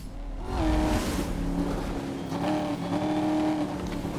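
Engine note of a Maserati GT MC Stradale in the racing game Need for Speed Most Wanted (2012), a steady loud rev with rising and falling pitch that holds throughout, with no talk over it.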